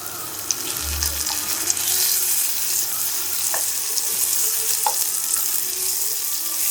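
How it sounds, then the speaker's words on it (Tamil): Onion, garlic and tomato sauté in a pan for kara kulambu, giving a continuous soft sizzle broken by a few light clicks and a low bump. "நல்லா தக்காளி வதங்கட்டும்"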